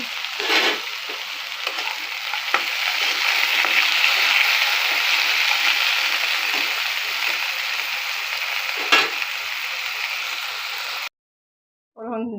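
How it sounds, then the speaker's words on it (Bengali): Potatoes frying in oil in a wok, with a loud continuous sizzle, a few sharp stirring clinks, and a sudden cut to silence near the end before a brief tail of other sound. "এবার আমি আলুটা দিয়ে দিয়েছি।"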